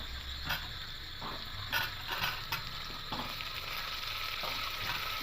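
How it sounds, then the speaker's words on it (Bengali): Potato pieces fry with lightly browned onions in a pan for a one-pot lentil and egg khichuri, a steady sizzle with occasional clinks and scrapes from stirring, close and continuous. "দিয়ে আলুগুলো করে একটু নাড়াচাড়া করে ভেজে নেবো।"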